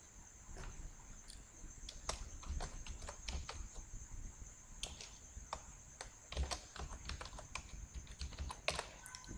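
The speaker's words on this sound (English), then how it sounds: "So I'm typing my name here." A name is being typed on a computer keyboard in Microsoft Word, with close, crisp key clicks in an uneven, steady stream over a faint background hum.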